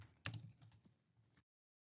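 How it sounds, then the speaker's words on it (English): Quick bursts of keystrokes on a computer keyboard as text is entered, a handful of soft, close clicks over about a second and a half before falling silent. "then I'm gonna type our text."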